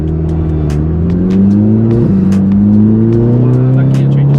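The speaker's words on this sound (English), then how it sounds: "Wow, that gear change is insane." Stage 2 350 bhp Audi TTS accelerating hard, a loud close engine note climbing in pitch, dropping sharply at a quick gear change, then climbing again, with rapid pops and crackles throughout.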